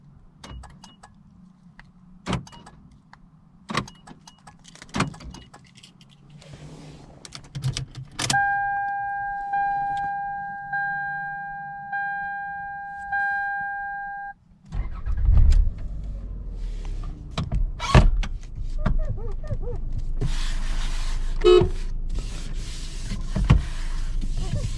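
A 2000 Toyota Camry LE with keys jangling, a power window whirring in several pulses, then the engine starting and driving with steady road and cabin noise, no talk.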